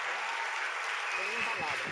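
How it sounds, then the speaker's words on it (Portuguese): A church congregation applauds with a dense, even patter of clapping that lasts for two seconds while a voice speaks over it. "Vamos aplaudir o Senhor Jesus."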